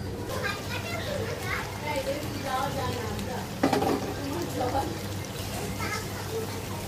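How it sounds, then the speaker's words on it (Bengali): Tengra fish frying and being stirred in a pan, a steady sizzle with light scraping, while children's voices chatter and play nearby throughout. "ঢেকে ওই চুলা দিয়ে এই চুলা ট্যাংরা মাছটা হালকা করে ভেজে নিব"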